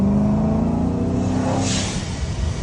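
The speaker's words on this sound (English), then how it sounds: "Y'all hear that supercharged blow-off valve?" Supercharged 1000 hp Dodge Hellcat engine with a blow-off valve, a loud steady engine drone held close by, then a brief airy whoosh of the valve venting before the note drops to a lower rumble.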